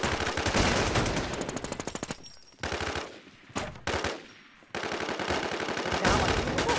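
Sustained rapid automatic gunfire in a video game, loud and close, in dense bursts with a few short pauses between volleys.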